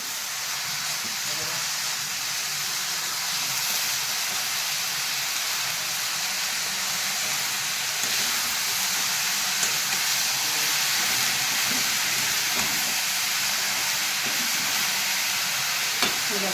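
Moth beans (matki) sizzle steadily in hot oil in a pan, a continuous bright hiss that holds even and fairly loud throughout with no talking.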